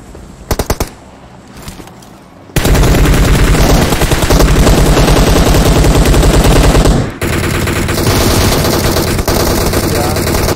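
Sustained automatic gunfire from PUBG, dense and loud, with rapid bursts running for several seconds after a few scattered shots, then continuing at a slightly lower level.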